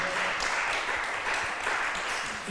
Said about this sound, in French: On peut applaudir M. Lambert